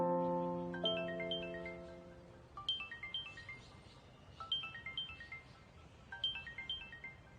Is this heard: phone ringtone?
yes